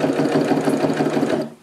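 A sewing machine fitted with a quarter-inch quilting guard foot stitches long strips of fabric, a close, steady fast mechanical whirr and rapid needle chatter that stops abruptly.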